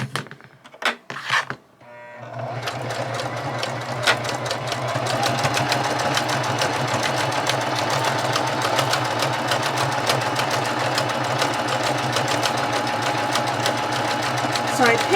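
A sewing machine stitches fragile lace onto a junk journal page using a doubled stitch, its rapid motor chatter starting after a few light handling noises and running steadily and close.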